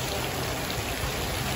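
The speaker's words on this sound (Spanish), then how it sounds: "La lluvia fuerte en Thousand Oaks." Heavy rain pours steadily in Thousand Oaks, California, during a storm, a dense, loud, continuous hiss of drops hitting surfaces close by with no talking.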